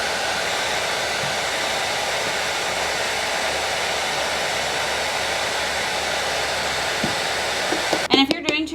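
A heat tool blows steadily while drying glitter fabric glue on shoes, a constant loud whooshing hiss that runs throughout, with a voice starting to speak right at the end.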